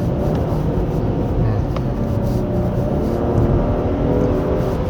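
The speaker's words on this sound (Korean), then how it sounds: "엑셀을 한번 좀 밟던 것보다 더 깊게 밟으니까 그때 가서" A Genesis G80 3.5 turbo AWD engine pulls hard under deep throttle on an icy winding mountain road, a steady, loud broadband roar with road and tyre noise throughout.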